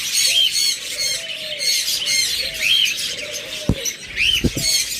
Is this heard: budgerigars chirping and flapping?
yes